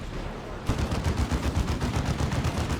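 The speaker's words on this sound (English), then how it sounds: "Boom, I have a plasma cannon." Rapid bursts of gunfire and blasts from a Dawn of War 2 multiplayer battle, in which a plasma cannon fires, start abruptly and keep going as a dense rhythmic rattle, loud and close.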